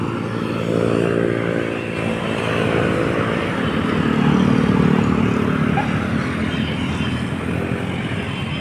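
A motorcycle idles and revs nearby at Luneta during a public display event, its engine rumbling with a rising and falling tone over background crowd and traffic noise.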